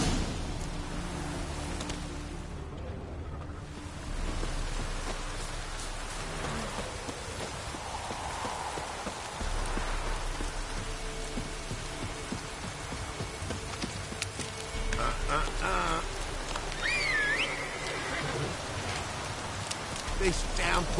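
Steady heavy rain hisses throughout in the video game The Witcher 3: Wild Hunt, with hoofbeats and faint voices mixed in beneath the downpour.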